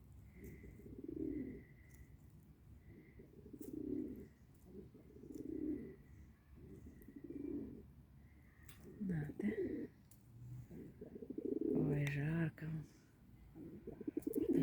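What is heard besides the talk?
pigeons cooing in a park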